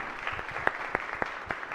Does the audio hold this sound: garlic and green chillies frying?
no